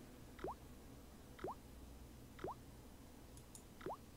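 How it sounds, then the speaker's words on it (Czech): A cold tap with a failed washer dribbles into a sink in the video game Broken Sword: Shadow of the Templars. Four soft, evenly spaced drips fall about a second apart over a quiet background. "The cold tap's washer looked to have failed. It was just dribbling down the sink."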